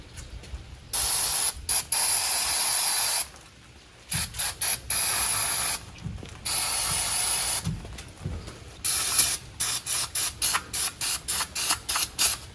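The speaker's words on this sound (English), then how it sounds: "I am now going to go underneath and spray that entire spring and cable and housing" Repeated bursts of aerosol lubricant spray hissing onto a truck's sticking rear brake cable, spring and housing, some long sustained blasts and then a quick series of short rhythmic spurts, close and loud.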